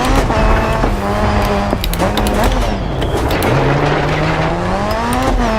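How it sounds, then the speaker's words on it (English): Rally-spec RX2 car engine in the racing game DiRT 4 drones loudly and steadily throughout, its pitch sliding through gear changes with brief tyre and gravel noises over the top. "I love these RX2 cars."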